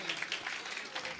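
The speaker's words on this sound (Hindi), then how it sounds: "एक बार भारी वाली बजाओ तालियां" Guests at a sangeet celebration clap together in a short burst of quick, closely spaced claps under an ongoing voice.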